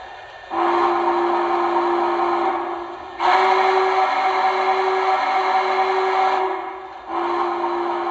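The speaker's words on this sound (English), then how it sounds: "Here is the whistle." A Lionel TMCC model of the N&W 611 J Class steam locomotive sounds its whistle in three sustained blasts, the first about two and a half seconds, the second about four, the third running to the end, over a faint mechanical hum.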